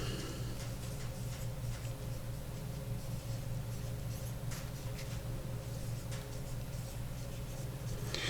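A marker writes a label on a plastic storage bag for wood finish, scratchy strokes faint against a steady room hum, with no talking.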